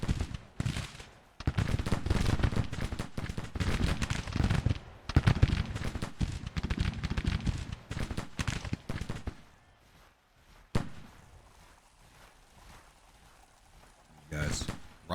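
Musket volleys and scattered gunfire fill a video game battle, dense and loud with overlapping cracks for about ten seconds before dropping to a quieter background with a few isolated shots.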